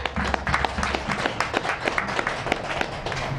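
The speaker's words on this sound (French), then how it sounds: "vous devez vous applaudir à vous-même" Applause from the audience at an African press conference, a continuous mass of claps with sharper individual hits punctuating it, fairly close and steady throughout with no speech.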